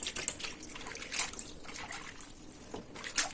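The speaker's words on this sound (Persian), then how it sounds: "این دومین آبی هست که من قوره ها رو دیگه میخوام بشورم و آب کشی کنم" Unripe grapes being washed and rinsed in a second bath of water: close, soft trickling and sloshing with occasional brighter splashes and drips, steady throughout with no talking.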